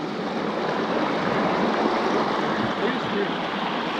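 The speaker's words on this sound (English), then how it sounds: "You guys can see how rough and swift the current is." A swift, rough creek runs in high water, giving a dense, constant rushing roar close to the microphone with no break across the whole stretch.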